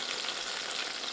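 Bean paste and small chillies fry in oil in a wok with a soft, steady sizzling hiss, faint and continuous, without any voices.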